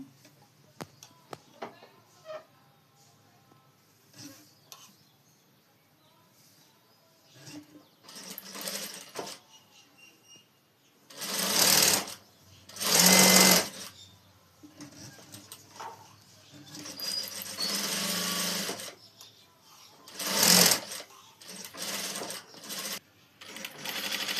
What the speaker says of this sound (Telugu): ఇప్పుడు హ్యాండ్స్ కుట్టుకుందాం